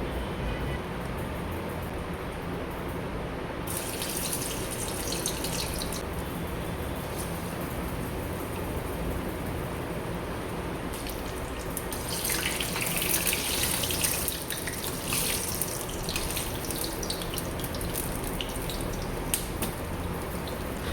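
Urad dal and onion vadas fry in hot oil with a steady, close crackling sizzle throughout, growing brighter and busier in bursts partway through, with no one talking.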